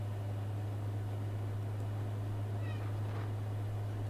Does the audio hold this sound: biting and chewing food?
no